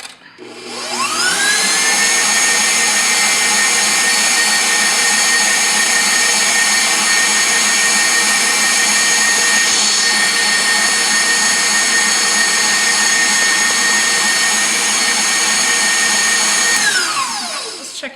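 Electric mixer whipping egg whites to stiff peaks in a bowl: a loud, close, continuous high motor whine that spins up at the start, holds steady for about fifteen seconds, then winds down; no talking.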